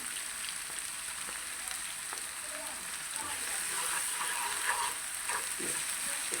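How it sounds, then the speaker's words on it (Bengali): Fish chutney masala with garam masala sizzles steadily in a pan, a soft, even hiss of frying with faint crackles and stirring scrapes throughout, no voice over it. "এটাকে ভালোভাবে আরও 3-4 মিনিট আমি ভালোভাবে কষিয়ে নেব"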